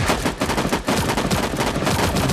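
Dense, rapid gunfire from the video game Sausage Man rattles loudly and almost without pause, close and harsh, with one brief gap partway through.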